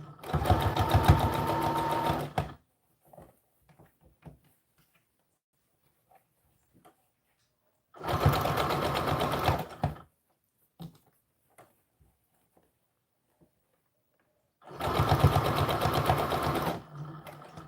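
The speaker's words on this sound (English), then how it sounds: "then we're going to go forward, being mindful not to sew any layers of fabric that we're not trying to catch into our sleeve." A sewing machine stitching the sleeve of an American Girl doll dress runs in three loud bursts of steady whirring, separated by quiet pauses with faint handling clicks.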